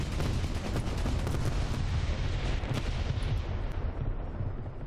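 Gunfire in a War Thunder battle involving a helicopter, heard as dense, continuous loud crackling and booming that fills the whole stretch with little letup.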